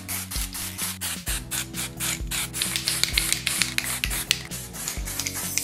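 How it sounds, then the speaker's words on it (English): Quick repeated bursts of blue hair color spray hiss in a steady rhythm from about 10 to 12 inches away, close and fairly quiet, with faint rubbing sounds underneath. "We're gonna spray from like 10 or 12 inches away."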